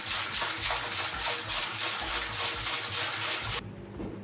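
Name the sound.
pouring distilled water into a sterilizer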